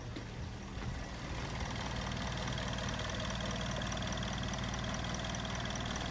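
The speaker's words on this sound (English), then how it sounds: "After let it to be idle for a while, so I can feel now that vibration." A 2007 Toyota Corolla Allion NZ260 engine idling roughly, a steady, loud low rumble with constant mechanical drone and a slight uneven vibration throughout, heard close up under the hood with no talking.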